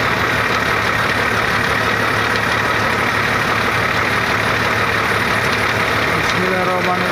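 A 2000 Mercedes-Benz OH 1518 bus engine running at a steady idle, a loud constant close rumble filling the whole stretch, with a faint voice underneath.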